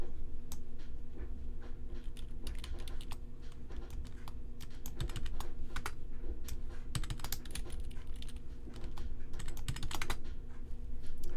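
Continuous typing on a computer keyboard while a password is entered during an OpenLDAP server install on Debian, with rapid, close, steady key clicks running throughout over a low background hum.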